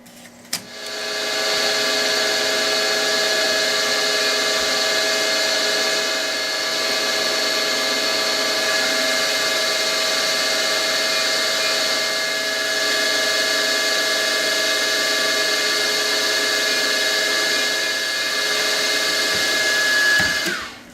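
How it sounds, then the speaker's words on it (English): A machine drills and reams a 3mm hole in a metal workpiece, a steady high-pitched whine running continuously at even loudness for about twenty seconds before cutting off. "we're going to drill and ream a 3mm hole"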